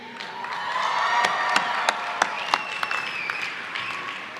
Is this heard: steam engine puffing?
no